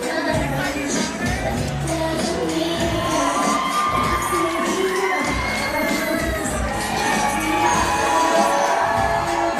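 A wrestling event crowd roars with continuous cheering, shouting and high-pitched yells that swell and surge throughout, loud and close, with no speech standing out.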